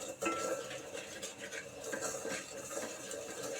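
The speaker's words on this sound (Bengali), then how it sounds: "এবার আমি এটাকে নেড়ে চেড়ে অনবরত নাড়তে থাকবো, নেড়ে নেড়ে সুজিটাকে একদম ব্রাউন করে নেব" Semolina for halwa stirred continuously in a pan over low heat, a spoon scraping and rubbing steadily against the metal in an unbroken, close, moderately quiet rhythm with no talking.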